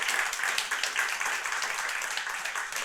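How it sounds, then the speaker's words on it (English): Conference audience applauding, a steady burst of clapping from a crowd lasting a few seconds. "So round of applause to them."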